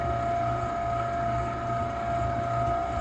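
A stand mixer kneading walnut raisin cinnamon swirl bread dough, a steady close motor hum with a constant tonal whine and a faint rhythmic churning underneath, even and uninterrupted.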